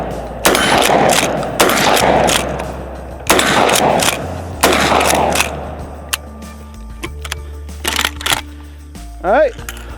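A Turkish shotgun loaded with Turkish shotgun shells fires a run of loud, sharp blasts at irregular intervals, each with a short echoing tail, followed by quieter handling clicks and rattles.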